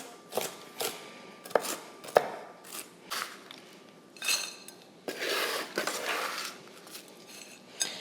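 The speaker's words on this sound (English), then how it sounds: "I want them chopped up a little bit" A knife chops through whole peanuts on a board, giving a good rough chop for a caramel apple topping. It sounds like a close series of irregular sharp knocks and clatters, with short pauses between bursts of chopping.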